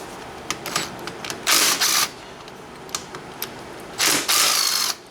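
Hand ratchet loosening the front brake caliper bolts on a Yamaha Banshee ATV gives short close clicks, then two longer bursts of rapid ratcheting.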